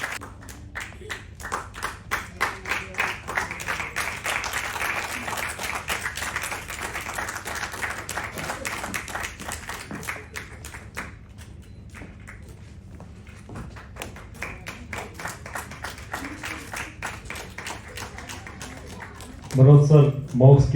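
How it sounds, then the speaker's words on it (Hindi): Audience applause at a Jain awards ceremony: sustained clapping from a crowd, steady and fairly loud for most of the stretch, thinning slightly midway, then some louder thumps near the end. "तालियां रुकनी नहीं चाहिए कृपया।"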